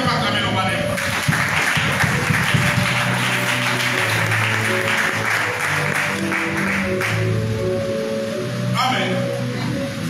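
Sustained applause and cheering from a congregation at a church service, a dense steady wash of clapping held at even loudness throughout, with voices mixed in.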